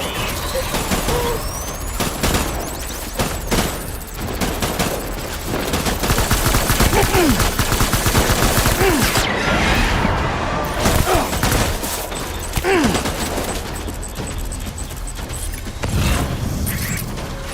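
Gunfire in the Death Stranding video game: sustained bursts of rapid automatic fire and volleys, loud and near, broken by thuds and a hissing mechanical blast, with brief quieter gaps between barrages.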